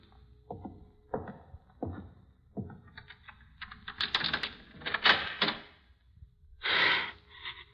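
A door opens with a few sharp clicks of a key and latch, followed by a creaking swing and a scrape, close and fairly quiet with no talk.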